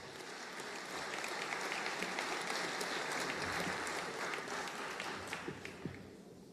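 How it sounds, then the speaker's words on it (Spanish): Warm applause from a sizable crowd claps steadily for several seconds, then thins out toward the end. There is no talking over it. "un aplauso entonces para ellos"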